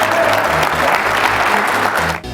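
Loud audience applause in a lecture hall, dense steady clapping over a low musical hum, cutting off abruptly near the end.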